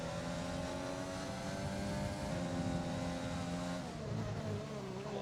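A Formula racing car in a video game at Silverstone drones with a high engine note that shifts and drops as it brakes into a corner, a continuous, fairly quiet whine with no voices.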